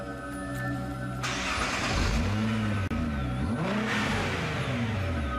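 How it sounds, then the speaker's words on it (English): A Nissan GT-R engine fires up for the first time on a dyno in a factory test room, a loud continuous revving roar with rising and falling pitch sweeps as the throttle blips, close and steady throughout. "Fully assembled, the engine is ferried across to the dyno room, where it started for the very first time."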